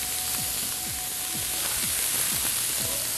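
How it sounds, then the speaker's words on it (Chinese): Crab fries until golden in a pot, a steady hiss of sizzling oil with faint repeated taps and crackles and no talking. "那下面已经煎金黄色"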